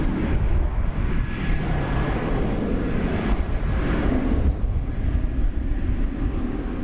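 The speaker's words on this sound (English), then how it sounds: "We have a flight coming in from Oklahoma City." An arriving airliner on approach at DFW Airport gives a steady, broad jet roar that stays loud and constant throughout, with no talk over it.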